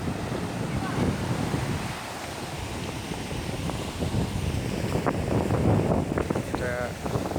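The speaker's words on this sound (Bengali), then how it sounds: "একটা ঢেউ আসতেছে বড়।" Big ocean waves rolling in at Ulsan beach in Korea, a continuous roaring wash of surf mixed with gusting wind buffeting the microphone, loud and close to the shoreline.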